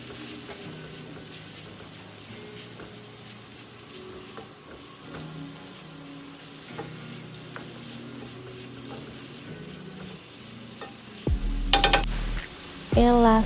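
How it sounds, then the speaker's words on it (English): Butter and parsley sizzling in a pan with pasta sauce, a steady close frying hiss with stirring scrapes throughout, ending in a few loud bumps near the close. "we are also going to toss in about, I would say, 2 tablespoons of butter"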